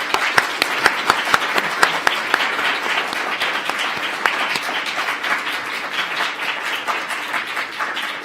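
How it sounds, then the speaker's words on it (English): Loud audience applause for the committee at a science and literature ceremony, opening with a few sharp distinct claps and then settling into steady, full clapping that carries to the end. "Please join me in giving our committee a huge round of applause."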